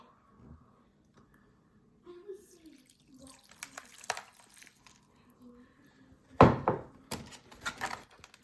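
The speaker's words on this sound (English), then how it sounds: "Next, we'll pour the water into the one with a little soil." Water is poured into a container holding a little soil in a soil erosion experiment, making a short splashing gush near the end after quiet handling clatter, close and moderately loud.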